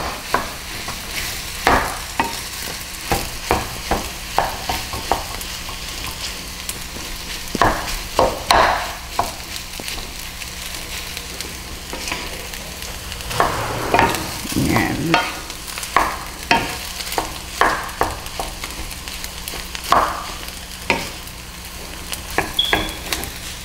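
Pork chao fan fried rice is stirred in a sizzling pan, close scraping strokes and clatter coming in an irregular rhythm over a constant frying hiss.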